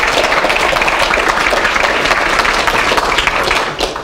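Audience applause welcoming a speaker to the stage at a web development talk, steady and dense clapping throughout that thins out at the very end.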